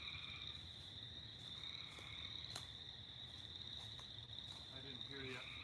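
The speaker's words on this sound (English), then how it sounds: "The toads or frogs or whoever are definitely enjoying the evening." Toads or frogs croak steadily in a pond at night, a dense, even chorus with a constant high trill. The sound is faint and distant, with a few soft voices now and then.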